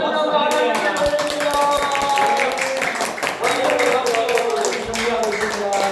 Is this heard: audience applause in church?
yes